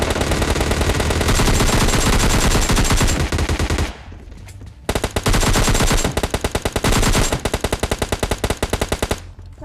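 Sustained automatic gunfire from a PUBG Mobile Lite match, loud and dense, with long rapid bursts, a brief lull near the middle, then more bursts tapering into separate shots.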